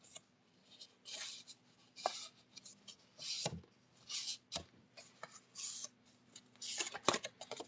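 Paper is folded and creased by hand in a series of separate rustling, scraping strokes with quiet pauses between them and a sharp tap or two, close and fairly soft.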